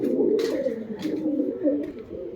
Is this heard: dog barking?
no